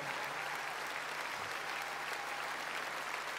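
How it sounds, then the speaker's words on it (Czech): Sustained applause from a concert audience greeting a Czech singer, a dense, even wash of clapping from many hands, steady and loud throughout with no voices on top. "za takové skvělé přivítání, za takový aplaus"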